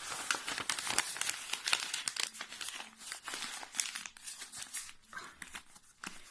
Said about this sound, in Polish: zwincie w kulkę i tę kulkę owincie e, białą kartką papieru